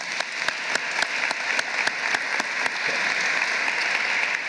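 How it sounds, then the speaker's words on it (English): Applause at a Carl B. Stokes Day ceremony, a crowd clapping steadily and densely for the full stretch at even loudness, with no voices over it. "So let's give him an applause."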